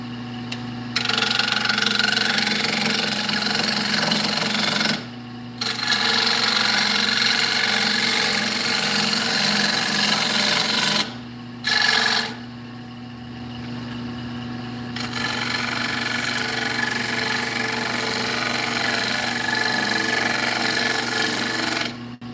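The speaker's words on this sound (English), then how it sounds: "So when you do the shear scrape with the bowl gouge this way, it gets it so smooth." Wood lathe spinning a cedar bowl as a bowl gouge shear-scrapes it: a steady, loud motor hum with continuous scraping hiss, broken by two brief pauses, then running on slightly quieter.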